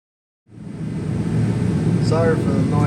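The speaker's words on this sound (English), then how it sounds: "Sorry for the noise, it's the torpedo heater" A torpedo heater kicks on abruptly in a garage during a car header install and settles into a loud, steady broadband roar and fan rush, with a faint voice-like sound briefly near the end.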